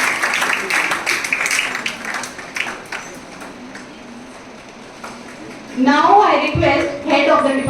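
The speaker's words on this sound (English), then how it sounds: "Give a huge round of applause." An audience claps at a World Pharmacist Day function, a dense patter of applause that thins out before a voice begins speaking near the end.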